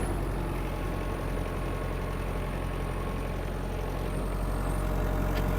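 Kubota X-20 Japanese mini tractor engine running steadily in third gear with the power take-off engaged, a close, constant diesel drone with a faint knocking rattle.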